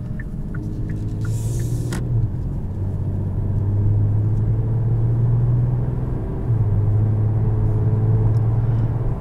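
A 2019 Genesis G70 3.3T engine hums steadily while driving, a low throaty drone that steps up and down gently in pitch as the car moves, heard from inside the cabin under road rumble.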